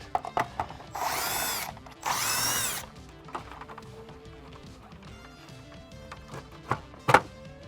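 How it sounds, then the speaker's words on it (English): Two short, loud whirring bursts of a power driver with a 10mm socket remove emblem nuts from studs on a 2020–2022 Ford F-250 grille, followed by quieter clicks and clinks of loosened hardware. "there's 3 nuts holding those studs in place, and take a 10mm socket"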